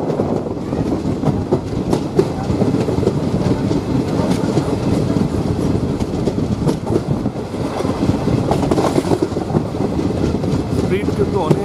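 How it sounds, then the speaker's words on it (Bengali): A slow train rolls through jungle between Siliguri and New Mal Junction, its loud, close clickety-clack of wheels on rails and the rumble of the carriages filling the whole stretch without a break. "পুরো জঙ্গলের মাঝখান দিয়ে ট্রেন যাচ্ছে।"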